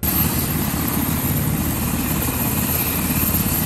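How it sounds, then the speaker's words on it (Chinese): A fire department helicopter searching over mountains for a missing hiker gives a loud, steady rotor and engine drone throughout, close and unbroken, with no voices. "消防队出动直升机连日侦查"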